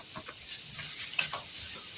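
Shredded daikon radish stir-fries with ginger strips in oil in a hot wok over high heat, giving a steady hiss of sizzling with light scraping and tossing sounds, close and with no one talking.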